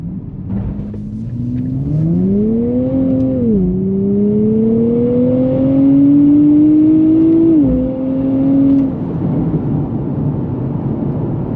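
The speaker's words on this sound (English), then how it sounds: "That V6 sounds incredible." A 2024 Nissan Z NISMO's V6 engine revs up loud and close, climbing through two gears with a brief dip at the shift, then holds a steady drone before settling back to idle.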